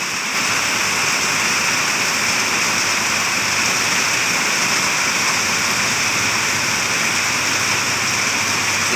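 Heavy evening downpour in Rangsit, Thailand, a loud dense roar of rain pouring without pause, close and unbroken for the whole stretch.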